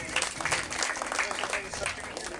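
Crowd applause for a graduate at a certificate graduation ceremony, brisk and fairly close, with a voice talking over the clapping.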